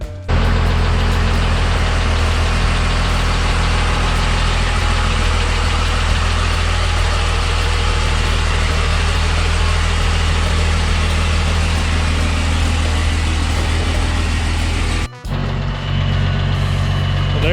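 A second-generation Cummins diesel in a lowered pickup truck runs at a steady, loud idle close by, a deep continuous rumble with a brief dip near the end.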